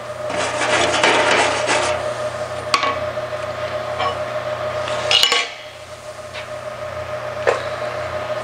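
Wire brush scrubbing over a freshly welded steel panel on a Jaguar E-Type bonnet, a steady close rasping that runs for several seconds, with a sharp tap near the middle and a quieter scraping tail.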